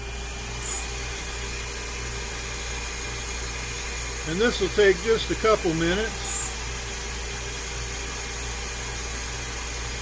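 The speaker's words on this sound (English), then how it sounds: "And it's starting to touch, so we have to turn the vacuum on." A shop vacuum runs during CNC milling of a metal Antikythera replica, a steady broadband rushing hum that continues throughout while someone speaks briefly near the middle.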